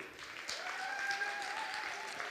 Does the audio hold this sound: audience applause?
yes